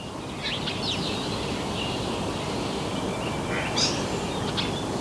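Distant seagulls calling over a steady outdoor hiss, with a few faint squawks scattered through and one slightly louder cry near the end.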